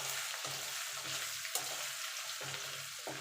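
Kashmiri chili powder being stirred into a spinach vegetable curry frying in a pan, with a steady sizzle and a few soft scraping strokes repeating at a regular pace.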